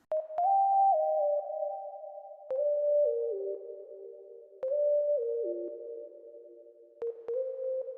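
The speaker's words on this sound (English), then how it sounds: "One of the effects I added to this sound is a reverb plugin" A soft sine-like synth lead plays a stepping melody in short phrases, each note trailing into a lingering reverberant wash.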